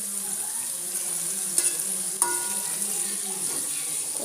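Fenugreek seeds dry-roasting in a pan for chutney, giving a steady close sizzle and faint crackle with a couple of sharp clinks from a stirring spoon against the pan.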